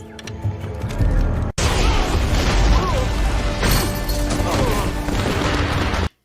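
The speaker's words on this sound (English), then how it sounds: "you're going to see her launch some fireworks off here" Fireworks set off inside a video game: a loud, dense stretch of crackling bursts and booms that barely lets up, broken by one sudden cut partway through.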